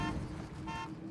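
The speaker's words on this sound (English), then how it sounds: "Oh, there's a honk." Vehicle horn honking in the video game Caravan SandWitch, a sustained tonal blare with two short swells over a low engine-like hum, moderately loud with no talk.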